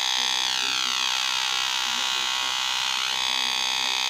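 A homemade voltage-controlled oscillator gives a steady, loud electronic tone with a buzzy, filtered character, its overtones sweeping slowly up and down while the sound continues without a break.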